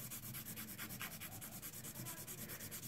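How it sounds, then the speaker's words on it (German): A nail file rasps steadily over an acrylic nail during a nail modelling course, even rhythmic back-and-forth strokes at close range, constant and fairly soft. "Du kannst nicht mit der anderen Hand feilen, ne?"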